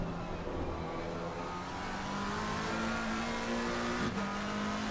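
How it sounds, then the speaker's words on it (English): A McLaren race car in a racing video game at the Nurburgring screams at high revs, a sustained strained engine whine climbing slightly in pitch, loud and continuous with a brief shift blip near the end. "You can hear it screaming now. The McLaren desperately clawing for even an ounce of more power"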